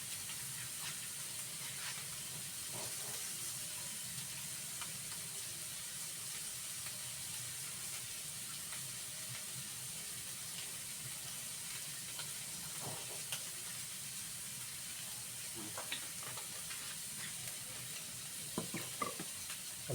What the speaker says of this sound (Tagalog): Meron na tayong nakasalang doon na prito